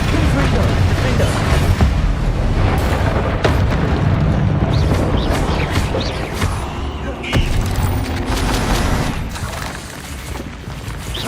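Repeated Confringo and Bombarda spell explosions in Hogwarts Legacy during a fight, a dense stream of booming blasts and crackling impacts running throughout at steady high loudness.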